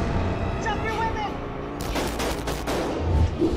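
Gunfire from a Friday the 13th fan film, a burst of several rapid, loud cracks in the second half, following a stretch of movie dialogue and a voice speaking beforehand.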